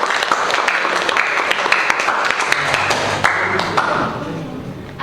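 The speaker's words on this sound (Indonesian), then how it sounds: "Kita berikan aplaus dulu." An audience in a school setting at SMKN 1 Indramayu gives a round of applause: a dense, steady patter of many hands clapping close by that fades slightly near the end.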